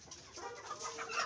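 Free-range village chickens about 1.5 months old clucking softly in their coop, a brief close murmur of peeping and clucks.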